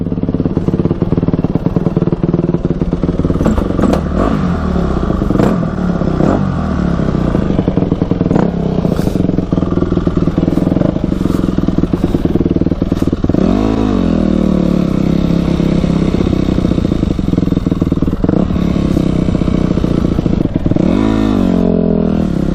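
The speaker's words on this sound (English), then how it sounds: "I got the bike all set to go here. It's all warmed up, ready to rip." A warmed-up dirt bike engine runs loud and close, idling with a steady rough beat and rising into two sharp revs, one midway and one near the end.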